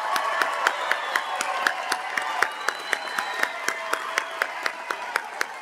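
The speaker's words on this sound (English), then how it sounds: "let's give them a warm round of applause" An audience at a university commencement ceremony claps in a steady, sparse rhythm, individual hand claps standing out distinctly in a large hall, moderately near and fairly even in loudness, with no talking.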